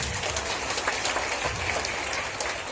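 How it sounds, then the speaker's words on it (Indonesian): A seminar audience claps steadily, a dense patter of many hands at even loudness throughout. "tepuk tangan dulu untuk kita semua di sini"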